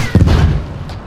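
Enemy cannon fire in Battlefield 1 multiplayer: one heavy, booming shot lands near the start, followed by a rumbling decay and a fainter second thump near the end.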